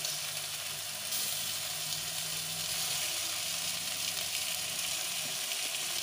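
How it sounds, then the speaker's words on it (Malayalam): Washed chicken goes into a pan of frying masala for a Malayalam-style chicken curry, and a loud, continuous sizzle fills the whole clip, swelling a little after the first second. "അതിനുശേഷം നമ്മൾ നന്നായി കഴുകി വെച്ച ചിക്കൻ അതിലേക്ക് ചേർത്ത്"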